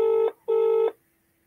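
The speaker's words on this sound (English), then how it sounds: "Aren't you going to answer the phone, Shandy?" A telephone rings in two steady electronic bursts, a loud tone that stops after the second ring, with no one talking.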